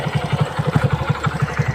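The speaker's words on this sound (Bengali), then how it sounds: "এই দেখুন আমাদের দিদি নতুন ফার্স্ট বাইক চালালো।" A motorcycle engine idles at a steady, fast chugging beat during a beginner's riding lesson, close and fairly loud, with no talk over it.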